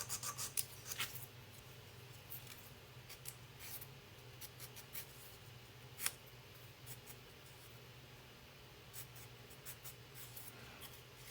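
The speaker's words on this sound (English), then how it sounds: "these sanding sticks I got off of Amazon, they come in a variety of types of grit, and they're good for getting in small areas" A sanding stick files in small areas with faint, repeated scratchy strokes over a low steady hum, quiet and close.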